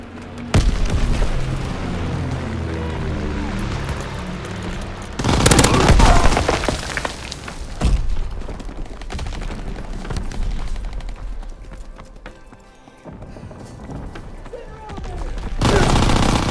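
Mortar rounds and gunfire in the World War II shooter game Call of Duty WWII: loud booming blasts and bursts of rapid fire that rise and fall.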